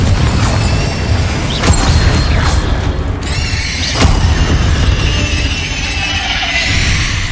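Confringo blasting spell cast in Hogwarts Legacy, loud booming impacts and crashing bursts with mechanical clatter in a dense, continuous game soundscape.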